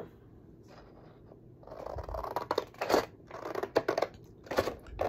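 Scissors snipping through junk journal paper close up, several crisp irregular cuts with papery rustling in a quiet room, no talking.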